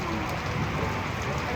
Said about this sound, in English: Rain's getting heavy again.